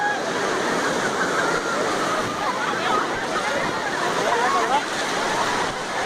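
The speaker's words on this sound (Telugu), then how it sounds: "ఇప్పుడు అలలు చాలా గట్టిగా చాలా పెద్దగా వస్తున్నాయి." Large, forceful ocean waves breaking at Mahabalipuram beach, a dense, loud, unbroken roar of surf and wash that fills the whole stretch, with a voice speaking over it.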